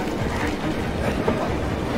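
A train in the horror video game Choo Choo Charles gives off a steady, loud rumble with a faint clatter, continuous from start to finish.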